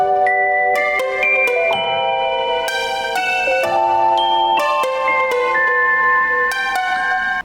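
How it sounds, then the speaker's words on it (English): An Omnisphere synth preset called Magic Sequencer plays a bright, bell-like counter melody of rapid plucked sequenced notes, steady and loud throughout with no voices. "It's an Omnisphere preset called, when it comes up, it's called Magic Sequencer."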